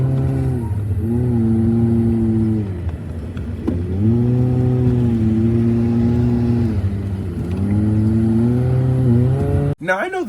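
A car engine in a sim racing game hums steadily at a roundabout, its pitch rising and falling through several gear-like sweeps, loud and close, ending in a sudden sharp break.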